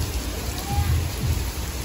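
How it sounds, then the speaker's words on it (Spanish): Heavy rain pouring down outside a costume shop, a steady loud hiss of falling water with low rumbling underneath, continuous and close for the whole stretch. "Miren cuánta lluvia se vino."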